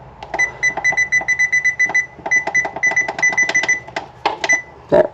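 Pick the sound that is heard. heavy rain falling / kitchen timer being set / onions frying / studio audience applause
kitchen timer being set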